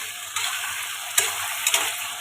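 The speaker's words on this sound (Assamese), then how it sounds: "এই মায়ে মাজে মাজে লৰাই আছে মাংসখিনি" Chicken meat frying in home-style oil that has begun to separate, with a steady close sizzle and a few sharp spoon scrapes as a mother stirs it.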